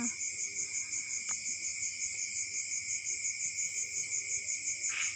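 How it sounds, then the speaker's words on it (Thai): Crickets chirp steadily outdoors on a full-moon night, a continuous pulsing trill that sits at a moderate distance and carries on alone for the whole stretch, with one brief faint knock partway through. "มีเสียงจิ้งหรีด ร้องด้วย ธรรมชาติที่ ไม่ค่อยได้บันทึกไว้เนาะ"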